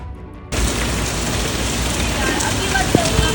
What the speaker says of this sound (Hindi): रिसेंटली बारिश इतनी तेज हो रही थी